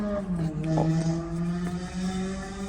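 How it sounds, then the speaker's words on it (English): A 2016–2021 Honda Civic's steady, droning engine note with a buzzy, tonal, cheap-sounding exhaust quality hums continuously throughout, fairly close and loud. "that's a terrible exhaust sound"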